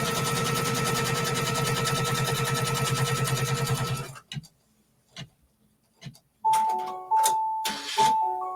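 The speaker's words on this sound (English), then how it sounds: "And I'll give it a little seam roll. And we'll let it stitch." An embroidery sewing machine stitches a quilt block in the hoop with a steady, rapid, loud mechanical whir for about four seconds. It then stops, and a few quiet clicks are followed by clear electronic beep tones.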